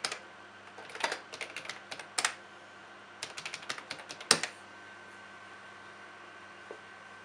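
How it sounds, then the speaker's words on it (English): Key clicks from an XT-layout computer keyboard on an old DOS-era PC, typed in short quick bursts with pauses between them and one louder keystroke near the end, over a steady low machine hum. "Ah, XT layout keyboard."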